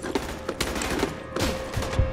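Rapid gunfire in a video game, a quick series of muffled shots in bursts over steady background game noise, moderately loud with no talk.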